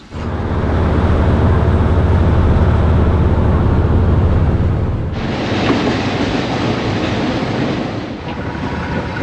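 A passenger train running on the Phnom Penh to Battambang line in Cambodia, loud and continuous with heavy low rumble and rattling wheels on the rails, the texture shifting partway through as the sound opens up.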